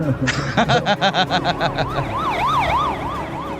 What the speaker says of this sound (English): Here comes the ambulance.